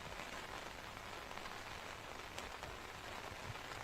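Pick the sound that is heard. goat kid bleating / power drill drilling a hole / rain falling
rain falling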